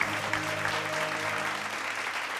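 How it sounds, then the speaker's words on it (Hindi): A crowd at an Indian school quiz final claps in a steady, dense burst of applause, close and continuous for the whole stretch. "एक बार जोरदार तालियां इनके लिए भी।"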